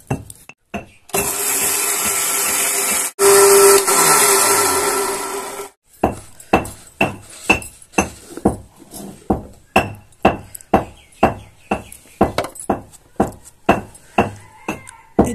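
An electric spice grinder grinds spices into powder in a loud, steady whir lasting a few seconds. A long run of sharp, regular knocks and clinks follows, like the jar being tapped or shaken.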